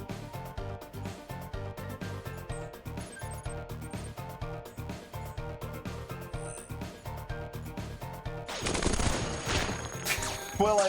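Heavy rapid gunfire in the robot tactics game Cogmind, shooting at the player through an opened wall, with steady repeated shots over game music that swell into a louder dense barrage near the end.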